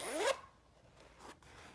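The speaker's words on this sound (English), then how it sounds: "now we're going to close up your zipper" A short, quick pull closing a zipper on a sewn clutch bag in the first moment, a rising rasp that ends abruptly, followed by faint handling rustle and quiet room noise.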